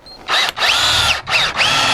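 A power drill drives a screw to fix a bottom ledger board in a garage, whining loudly and close in three quick bursts whose motor pitch rises and dips as the screw bites.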